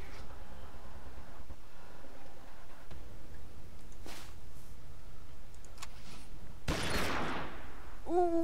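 Gunfire in a tactical shooter video game, with soft scattered shots through the first part and a loud, dense burst of firing near the end, followed by a brief tonal blip.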